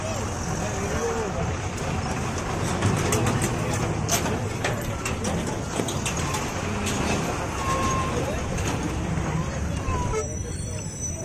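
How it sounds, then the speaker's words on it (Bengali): A train rolls past a railway level crossing at Rasulpur near Memari, with a steady, loud, close rumble and roar that lasts throughout. Road traffic and faint crowd noise sit underneath. "যে ট্রেন যাচ্ছে।"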